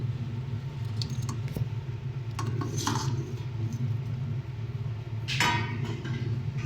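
Fried cauliflower stirred into chilli gravy in a pan, with a steady low hum beneath and scattered clinks and scrapes of a utensil against the pan, one brighter scrape near the end.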